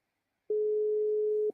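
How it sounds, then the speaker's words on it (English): A single steady tone of about one second on an outgoing telephone call, clean and continuous, with a brief click where it ends. "It is ringing."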